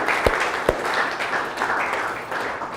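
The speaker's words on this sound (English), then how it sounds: "Let's clap them up for them." Audience applause for first generation college students, a dense steady crowd clapping in a hall with a couple of sharp nearby claps standing out early on, running continuously throughout.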